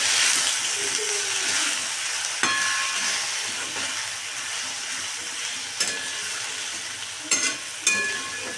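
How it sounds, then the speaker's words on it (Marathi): Soaked moong dal sautéed in a pan while making drumstick-leaf bhaji, a steady close sizzle and hiss with a few sharp scraping stirs of the spatula, no voices. "लगेचच ते मुगाची डाळ टाकून घ्यायचं आहे भिजू घातलेली डाळ छान असं परतून घ्यायचं आहे"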